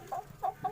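Fancy chickens and roosters in a coop cluck in three short, nasal bursts in quick succession, close and fairly quiet, with no one talking.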